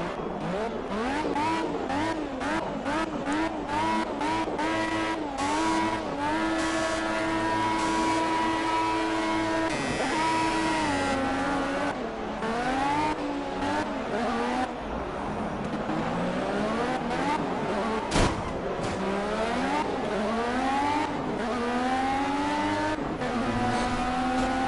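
A race car in the Project Cars video game, its engine loud and close as it revs up and down through gear changes in long rising sweeps, with no talking.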